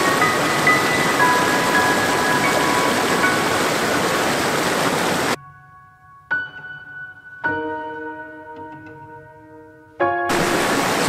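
Waterfall on snowy Deepdale Beck in the Lake District, a steady broadband rush of falling water heard close for about five seconds, then cut off, with brief tonal ringing sounds in the gap before the rush returns.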